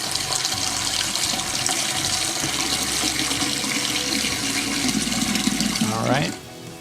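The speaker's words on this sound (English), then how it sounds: "I'm gonna add some water to it" Water runs steadily into a warm steam jacketed kettle to loosen leftover soup or sauce for cleanup, a broad continuous pouring wash that ends abruptly near the close.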